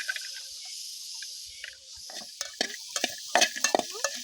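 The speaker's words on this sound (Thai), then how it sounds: "คั่วพริกกระเทียมหอมแดงแล้วจึงคั่วปลาจะหน่อยเนาะคั่วปลาแห้ง" Chili, garlic and shallots dry-roast in a pan before dried fish is added, making a close crackle with clicking and scraping stirs that grow busier toward the end, over a faint high hiss like insects.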